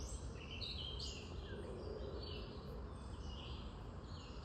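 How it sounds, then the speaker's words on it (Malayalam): Small birds chirp and sing faintly along a forest trail in America, with scattered high calls over a soft, steady background hush and no talking. "ചെറിയ ചെറിയ കിളികളുടെ കിളിനാദങ്ങൾ നിങ്ങൾ കേൾക്കുന്നുണ്ടോ?"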